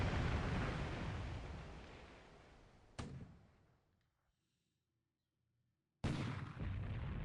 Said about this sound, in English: he's using the deck gun and the anti-aircraft gun